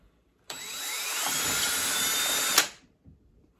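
A power drill bores drainage holes in the bottom of a plastic hydroponic container, one steady, loud, close whine of about two seconds that ends in a brief sharp burst and then stops.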